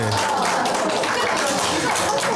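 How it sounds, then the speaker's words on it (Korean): Short burst of clapping for a child who won a silver prize at an abacus contest in Busan, heard during a church harvest thanksgiving service; a small group claps steadily and close for about two seconds. "와, 우리 박수 한번 쳐줘요, 박수."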